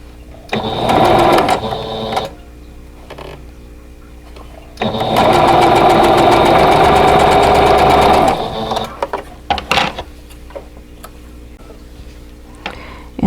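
A sewing machine stitches quilt block pieces in two bursts, a short one and then a longer steady run, each with a rapid mechanical whir and fast needle ticking; close and loud, with quiet handling pauses and no voices.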